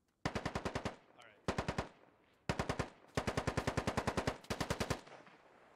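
Rapid automatic gunfire from the military shooter game SquadOps rattles in several bursts of evenly spaced shots, loud and close, separated by short pauses.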